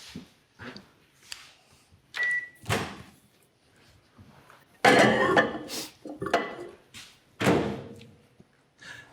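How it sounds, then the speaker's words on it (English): A series of knocks and clatters of dishware, then louder thuds and a door-like bang as a dish of pasta and vegetables goes into a microwave, close by. "So I'm going to put that in the microwave now."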